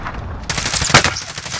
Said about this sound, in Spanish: Está disparando.